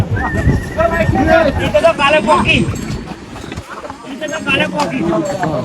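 Horses on the steep Yamunotri mountain pilgrimage trek path, close by, neighing and whinnying repeatedly with hooves clip-clopping on the trail, under people talking nearby.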